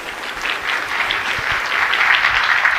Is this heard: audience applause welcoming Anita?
yes